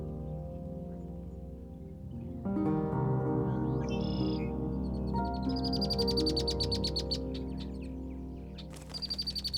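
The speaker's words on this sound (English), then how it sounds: "the call of the red-winged blackbird is incredibly nostalgic" Red-winged blackbird calls at an Ontario marsh or pond in a provincial park: repeated bright, buzzy trilling phrases arrive in the second half over a steady low tonal drone.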